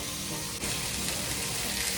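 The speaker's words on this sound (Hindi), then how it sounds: "जब तक हमारे प्याज फ्राई हो रहे हैं" Onions sizzle and crackle in a pan, a steady close hiss that grows a little brighter after a moment.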